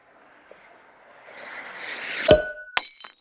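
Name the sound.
pulling inner packaging out of a toy box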